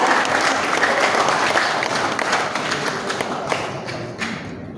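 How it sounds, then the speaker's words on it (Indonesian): Sustained, dense applause from an audience at a church leadership handover ceremony honoring two pastors, loud and steady for the full stretch before tapering slightly at the end, with no speech over it. "Kita saksikan bersama dan berikan aplaus kepada kedua"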